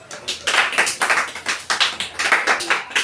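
Children in a classroom clap together in quick rhythmic bursts, about a dozen sharp claps in a row, close and lively.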